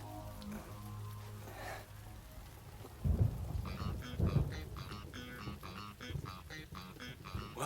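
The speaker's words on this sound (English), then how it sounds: "rain's really starting to come down now" In a night mountain downhill race in an anime, heavy rain hisses steadily while low rumbles of thunder roll in, followed by a dense patter of drops hitting surfaces.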